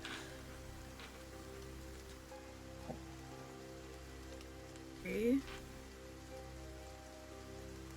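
Cold rain falls steadily at night in front of a keep in a tabletop campaign, a faint, even hiss of drops on surfaces, briefly interrupted by a short spoken word.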